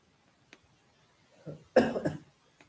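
A quiet tap, then a short burst of harsh coughing close to the microphone, with a throat-clearing rasp.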